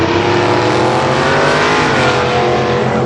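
Two Ford Mustang drag cars, a 1980 and an 1985, launch side by side down a quarter-mile strip, their engines roaring loud and close with rising revs that hold a sustained, heavy drone.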